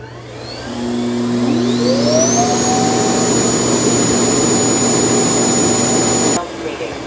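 A Eufy X8 Pro robot vacuum's base station emptying dust, a loud, close motor that spins up with a rising whine and holds a steady roar for several seconds before cutting off abruptly.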